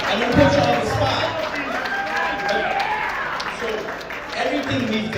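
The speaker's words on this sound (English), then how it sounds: "let's give him a round of applause" A gala crowd at the Kings County Republican Club in Brooklyn applauds New York State Republican Chairman Ed Cox, a steady wash of clapping and crowd noise lasting several seconds, with voices talking over it.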